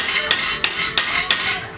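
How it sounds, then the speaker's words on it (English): A hammer strikes a chisel to drive out worn suspension bushings from a Lexus IS300, four sharp metallic knocks at an even pace, close and loud over a faint background hiss. "I'm just here with a chisel and a hammer"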